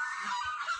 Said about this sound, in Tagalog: Ang dami nilang alagang pato.